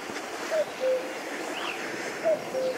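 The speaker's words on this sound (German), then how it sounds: "Man hört den Uhu." Eagle owl hooting by a riverside cycling route along the Lippe near Bad Sassendorf: two pairs of faint, low, short hoots under steady wind and water noise, distant and soft.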